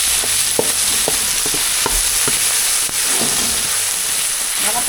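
Softened chicken feet, pressure-cooked beforehand, sauté in a pan for a sitizaw dish, giving a steady close sizzle and hiss with scattered stirring clicks and scrapes throughout.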